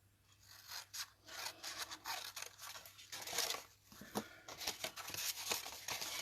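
Scissors cutting paper strips for a paper pumpkin craft, quiet close snips and rasping slices in irregular bursts, soft and without talk.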